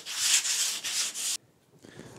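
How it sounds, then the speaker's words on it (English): Pallet wood timber pieces sanded by hand: four rhythmic, raspy back-and-forth strokes, close and fairly loud, then a brief pause before a softer scrape. "what we're going to do is, again, just sand them up"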